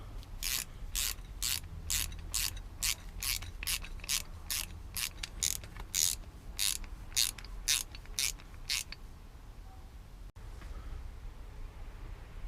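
A ratchet clicks in quick, steady rapid strokes while tightening front brake bolts on a Japanese motorcycle, close and crisp, then stops, leaving a quiet room with a faint low hum.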